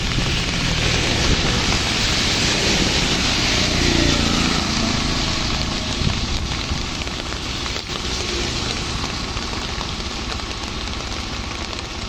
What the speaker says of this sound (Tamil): சரியான மழை.